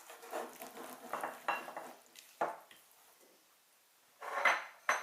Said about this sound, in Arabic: كنخلطو حتى كلشي كيتخلط مزيان